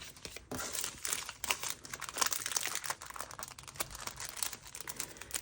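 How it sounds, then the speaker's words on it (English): A thin plastic sheet for packing cash envelopes crinkles and rustles up close in rapid, irregular bursts with no voices. "I'm gonna grab a little plastic sheet for the envelopes to go in."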